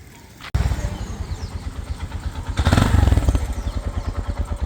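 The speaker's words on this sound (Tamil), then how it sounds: "ஓகே ஸ்டார்ட் பண்ணுங்க ஆட்டோ சத்தத்தை கேட்போம்" A used three-wheeler auto rickshaw engine cranks with a sharp thump, then catches and runs in a rapid, loud, pulsing putter close by, briefly revving louder before settling back to a steady chugging idle.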